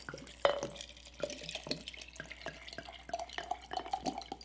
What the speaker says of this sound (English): you fill up the rest of the jar with water